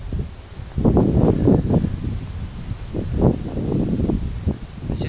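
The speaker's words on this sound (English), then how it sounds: "The wind is bad" Wind buffeting an outdoor microphone during a honeybee swarm capture, low rumbling gusts that rise and fall in uneven bursts over several seconds.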